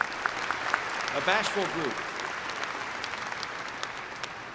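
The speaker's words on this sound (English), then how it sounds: "How about a round of applause for them?" Warm applause for university staff fills a spring commencement ceremony hall, steady crowd clapping that continues as someone speaks briefly over it.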